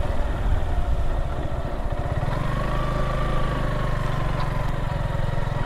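A motorcycle engine runs at a steady idle, near and loud, as the bike enters a village near Lalghat waterfall in Sunamganj.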